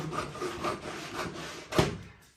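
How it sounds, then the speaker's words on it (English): Excess wallpaper is trimmed on a pasting bench with soft, repeated scraping and cutting strokes, ending in a sharper slice, faint and close with no talk. "while it's on the bench, trim off the excess again"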